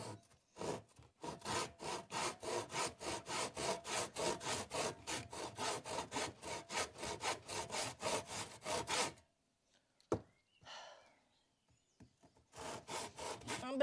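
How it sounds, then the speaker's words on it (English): A handsaw cuts through a wooden pallet in steady, rapid back-and-forth strokes for about nine seconds, then stops; after a short pause a few scattered knocks are heard, and the sawing starts up again near the end. "I'm struggling on this side of the fence with my fucking pallet and my fucking handsaw"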